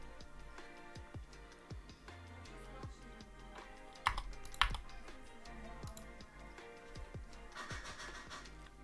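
Typing on a Mojo 60 mechanical keyboard, a stream of close, crisp key clicks and clacks at a steady, uneven pace, with a couple of louder strikes midway, alone without speech.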